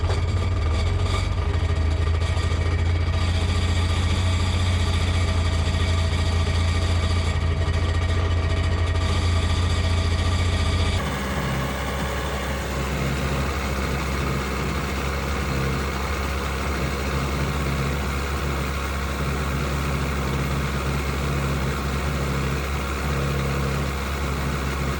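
A 2003 Sea-Doo GTI RFI two-stroke engine idles steadily, a loud, close, even low rumble with a constant hum that shifts slightly in tone partway through, with no talking.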